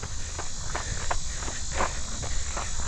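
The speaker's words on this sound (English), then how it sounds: "Hear those damn cicadas again." Cicadas buzzing in hot summer weather, a continuous high shrill drone, with faint rhythmic footsteps of a runner beneath it.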